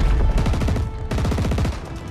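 Fast, rhythmic automatic gunfire from a Call of Duty WW2 battle, loud and close, firing in two steady bursts with a brief break between them.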